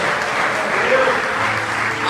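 A congregation applauds during a church worship service, producing a dense, continuous wash of clapping that fills the room at strong, even loudness throughout.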